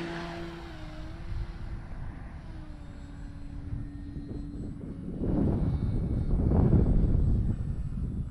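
An FMS CJ-6 Nanchang model airplane flies outdoors, its small motor whining faintly at first and then surging louder and nearer in a rising buzz toward the end.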